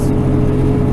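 A big diesel truck engine set to an 1800 RPM range spins at high revs on a mountain highway, a loud, steady low hum with a constant engine drone and no talk.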